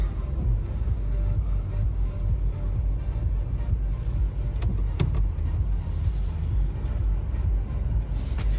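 Car engine idling with a continuous low, rough rumble heard from inside the cabin, steady throughout with a couple of faint clicks.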